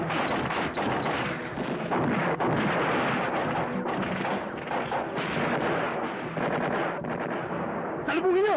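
Gunfire fills a Filipino action movie scene, dense continuous bursts and booming shots layered with shouting voices and music, loud and chaotic throughout with a sharper burst near the end.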